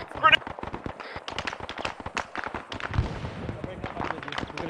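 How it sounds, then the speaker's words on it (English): Rapid bursts of gunfire in Arma 3 crackle almost nonstop, with sharp overlapping shots over a busy, noisy mix and occasional voices in the background. "That's a lot of gunfire."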